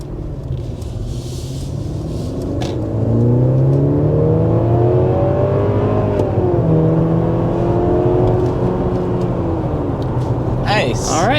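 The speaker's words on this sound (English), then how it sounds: "we're going to go ahead and start with a hard acceleration" A 2024 Mercedes GLC 300 under hard acceleration to 60 mph, heard from inside the cabin as a steady engine drone with rising and shifting tones through gear changes and road rumble beneath.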